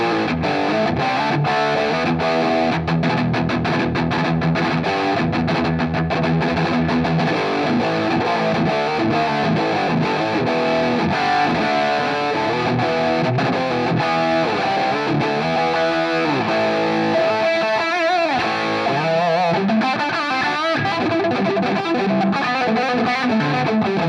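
An electric guitar runs through a SoloDallas Schaffer Replica pedal into a Marshall JVM amp set for a heavier sound, with continuous loud, distorted playing of chords and riffs throughout.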